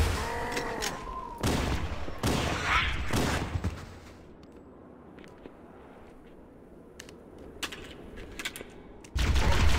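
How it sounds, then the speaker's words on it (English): Rapid plasma rifle fire in the video game Halo: Combat Evolved, loud, broadband bursts in the opening seconds, then a quieter stretch of scattered clicks and game ambience before another loud burst at the end. "Man, that guy's got a trigger finger on that plasma rifle."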